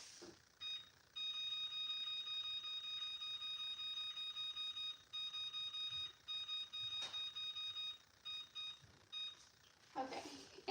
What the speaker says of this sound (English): our timer went off for our bread